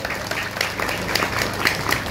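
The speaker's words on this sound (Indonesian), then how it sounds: "Tepuk tangan untuk Nida Sofa." An audience at an Islamic sermon gathering in a village applauds a hadroh music group, a steady mid-level patter of many hands clapping for about two seconds.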